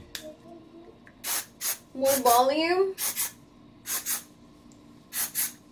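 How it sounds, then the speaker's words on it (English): Several short bursts of hair volume spray hiss, loud and close, in quick pairs with pauses between, while a person speaks briefly in the middle. "I'm just gonna add my magnified volume spray"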